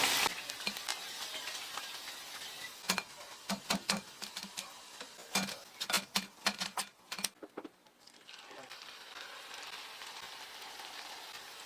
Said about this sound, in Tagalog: dinoble fry ko para siguradong crispy